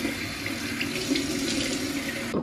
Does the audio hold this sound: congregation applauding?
no